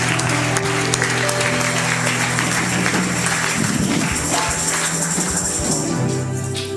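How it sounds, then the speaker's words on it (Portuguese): Church congregation at an annual conference clapping for Jesus, steady applause mixed with sustained organ or keyboard tones and background voices throughout. "Dê um aplauso a Jesus"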